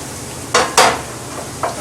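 Onions and garlic are stirred in a frying pan, making a few short scraping sweeps close by over a faint background sizzle.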